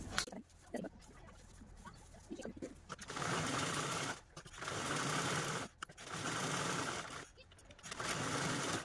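A sewing machine stitches three sides of a fabric piece with a zip centred, running in three loud sustained bursts separated by short pauses, with a voice talking early on before the machine starts.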